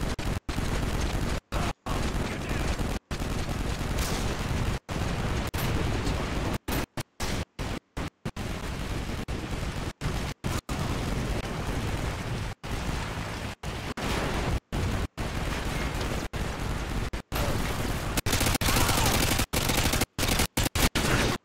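Near-constant gunfire fills a Modern Warfare 2 team deathmatch, with dense, loud bursts of automatic fire and explosions broken only by brief gaps.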